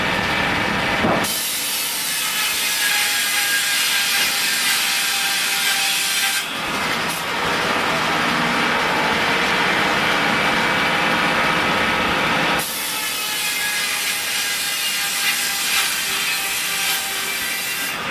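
A steam-powered sawbench at a steam rally cuts through a thick log of timber. The sawing is loud and continuous, with a steady rasping roar that dips briefly twice before carrying on. No one speaks.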